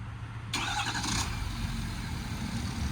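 A 2019 Ford F-550 4x4 extended-cab service truck's diesel engine is started by remote, cranking and catching abruptly, then settling into a steady, rumbling idle nearby.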